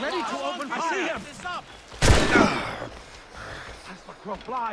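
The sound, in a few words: ship cannons firing in the video game Assassin's Creed Rogue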